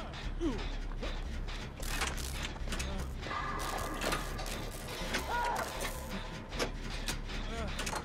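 A generator being repaired in the game Dead by Daylight makes a steady mechanical ratcheting and clanking loop that runs throughout, with someone talking over it.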